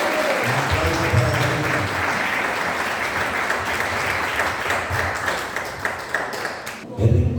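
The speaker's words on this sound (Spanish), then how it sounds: "Un aplauso para" An audience at a Christmas church event claps in a sustained round of applause, bright and dense, fading slightly before a voice returns at the end.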